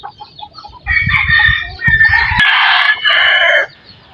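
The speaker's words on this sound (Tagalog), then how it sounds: "ang daming tandang" Several roosters crow loudly and close by in an overlapping chorus of long, strained calls, with soft clucking and low rustling before them and no talking.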